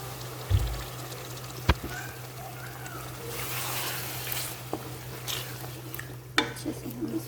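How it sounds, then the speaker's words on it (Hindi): Water from boiled potatoes is poured into a simmering curry pot, a short splashing trickle with a few clanks of utensils against the pot and soft kitchen noise. "थोड़ा सा आलू का पानी ऐड करेंगे।"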